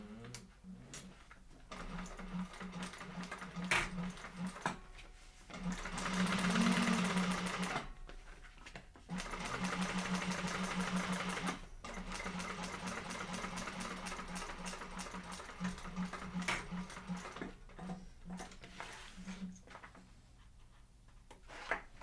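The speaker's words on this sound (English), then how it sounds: "You're top stitching" A sewing machine top stitching a fabric panel runs in long steady bursts with a rapid mechanical chatter and hum, pausing briefly between runs, close and fairly loud.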